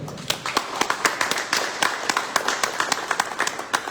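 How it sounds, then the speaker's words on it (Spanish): Applause in a lecture hall at the Museo Regional de Chiapas for a visiting speaker, a crowd clapping with distinct sharp individual claps standing out over a steady background patter, moderately loud throughout. "Yo pido por favor le demos un fuerte aplauso"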